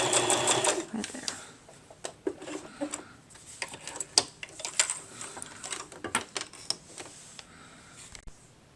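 A sewing machine stitches the ear seam of a sock monkey, running in short close bursts of rapid mechanical whirring and clicking with pauses in between, while a person speaks.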